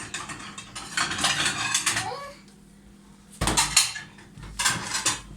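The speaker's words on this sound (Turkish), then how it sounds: "Bir tabak alıyoruz." Dishes and cutlery clink as a plate is taken in a home kitchen, with close ceramic knocks and metallic rattles in two bursts around a brief quiet gap.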